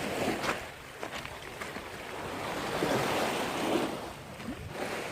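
Sea waves wash onto a rocky beach shore at high tide in the Philippines, with a continuous rushing surf that swells and ebbs, plus some wind buffeting the microphone.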